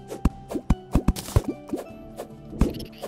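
Water flowing in Terraria as an underworld area is flooded, heard as a string of distinct watery plops at an irregular rhythm, with no speech over it.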